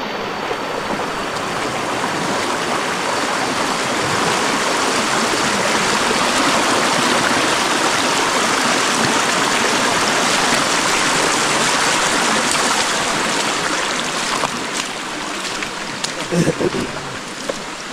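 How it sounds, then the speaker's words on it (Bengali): A gurgling mountain stream rushes near a waterfall on a jungle trail in Thanchi, Bandarban: a steady, full wash of flowing water fills the whole stretch, with a brief faint voice near the end. "পানির কলরকল শব্দ আর ঝর্ণার টানে আমরা আস্তে আস্তে এগিয়ে যাচ্ছি"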